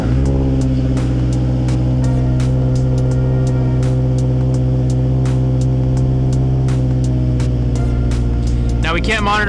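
A Mazdaspeed 3 engine idles steadily and loudly, its low drone constant throughout, with a brief higher burst near the end, during auxiliary port fuel injector testing.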